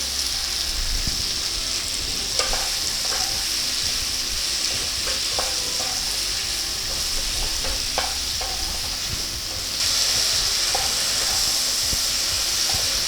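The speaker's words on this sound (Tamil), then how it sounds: "ஒரு சின்ன பிஞ்ச் உப்பு போடுறேன். அது சீக்கிரம் வதங்கும்." Chopped medium tomatoes with a pinch of salt sautéing in a pan, a steady close sizzle with occasional stirring clinks, continuous and fairly loud throughout.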